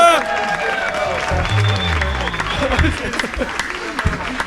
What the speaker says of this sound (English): on applaudit Charles encore une fois